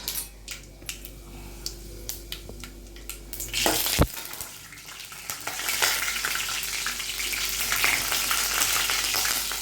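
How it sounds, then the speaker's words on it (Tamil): Chana dal roasts in a pan with a dry crackling sizzle and scattered clicks of stirring, a heavier knock near the middle, then the frying grows louder and denser toward the end. "கடலைப்பருப்பு அந்த பொன்னிறம் வர மாதிரி நம்ம விட்டு வறுக்க விடணும்"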